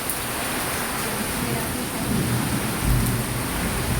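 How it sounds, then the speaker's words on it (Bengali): Heavy rain pours constantly while low thunder rumbles in the background, swelling briefly near the end. "প্রচন্ড জোর বৃষ্টি হচ্ছে।"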